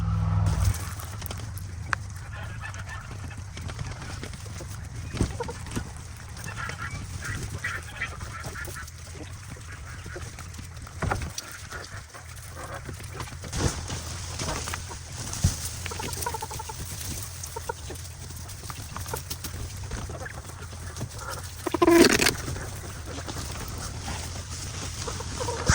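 Small Serama chickens moving in straw give scattered soft clucks and rustles, with a faint, busy, noisy background and occasional louder calls, one short sharper call near the end.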